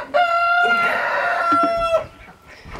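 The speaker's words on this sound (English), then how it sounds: "There's a chicken back there laying an egg." A hen in a backyard coop calls out loudly while laying an egg, a strong, sustained, harmonic squawk lasting over a second, followed by fainter cackling as the call trails off.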